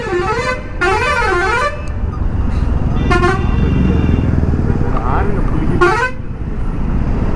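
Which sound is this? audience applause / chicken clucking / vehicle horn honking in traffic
vehicle horn honking in traffic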